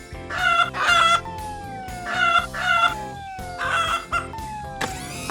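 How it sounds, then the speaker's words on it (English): Repeated squawking, clucking bursts like a hen, with rising and falling pitch over a steady musical backing from a children's cartoon, several loud calls in quick succession. "You've started clucking like a hen."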